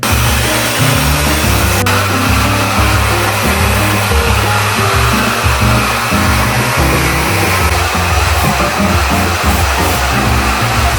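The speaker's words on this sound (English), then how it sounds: "Now I'm gonna flip my head upside down so we can diffuse like that, so then we get more volume." A hair dryer fitted with a diffuser blows on curly hair with the head flipped upside down, a loud, close, continuous whoosh that stays steady with slight shifts as it moves, and no talking.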